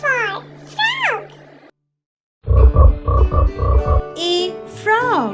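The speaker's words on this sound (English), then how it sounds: "F for frog." A frog croaks in a quick run of rhythmic, throaty pulses, loud and close, right after a bright singing voice in a children's alphabet song.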